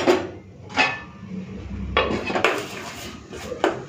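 A lid goes onto a cooking pot with a handful of sharp metallic clanks and knocks, separated by short pauses.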